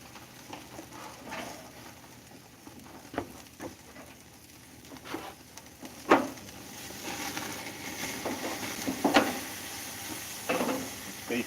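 Steak sears in a pan for breakfast tortillas, a soft steady sizzle and patter with occasional louder pops and stirs, outdoors by a lake, with little talk.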